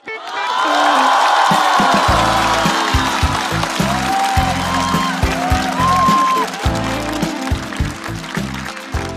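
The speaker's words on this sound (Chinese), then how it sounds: "来，再次掌声送给宋小宝。" A studio audience at a comedy roast show cheers and applauds comedian Song Xiaobao: loud, dense clapping with whoops swells at once, then thins into scattered claps while music plays underneath.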